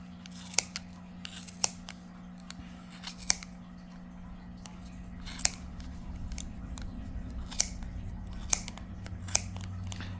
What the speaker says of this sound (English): Now we're going to take our scissors and we're going to go in these crevices.